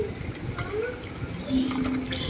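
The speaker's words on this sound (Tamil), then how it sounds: "இது தண்ணியை மட்டும் நம்ம ஒரு இடத்துல ஒரு பாத்திரத்தில் வடிகட்டி எடுத்துக்கலாம்" Cooked lentil water is strained into a kitchen vessel while making sambar, a soft continuous pouring trickle with a brief surge midway, at low volume.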